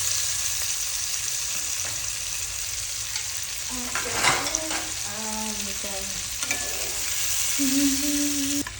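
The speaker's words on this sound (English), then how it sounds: "Just to let them saute for a bit." Onions sauté in the pan used for a creamy mushroom chicken dish, making a steady, close, loud sizzle with occasional stirring scrapes and soft bubbling pops.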